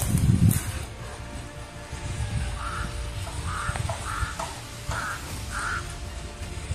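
Several crows caw in short repeated bursts from a moderate distance outdoors, over a low rustling background, with no voices heard.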